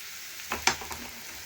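A couple of quick scrapes and clicks of a utensil stirring fried spice mix into frying onions for masoor dal, over a faint sizzle, brief and soft.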